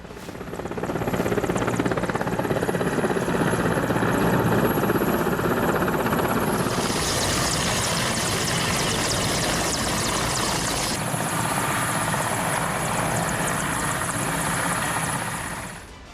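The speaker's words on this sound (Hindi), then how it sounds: "सैन्य अभ्यास में हेलीकॉप्टर्स ने भी हिस्सा लिया।" Military helicopters in an Iranian army exercise over the Strait of Hormuz and the Makran sea, a loud steady rotor and turbine drone that carries on unbroken for about fifteen seconds with no voices.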